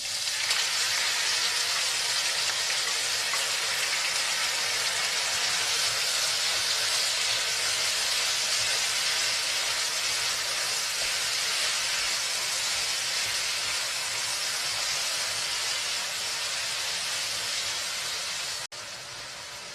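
Kimchi frying in hot cooking oil in a pan for kimchi fried rice with ham, a loud, steady, close sizzle and hiss that holds evenly for about twenty seconds before dropping slightly in level at the end.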